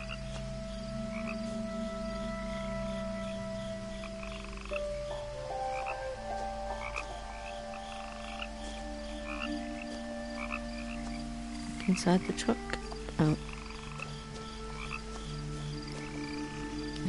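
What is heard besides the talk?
frogs croaking in What Remains of Edith Finch video game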